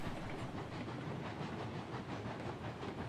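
A steam locomotive in the Railroads Online video game hauls heavy loads at low speed, giving a steady rolling rumble with a soft rhythmic chuff and faint clatter, and no voices.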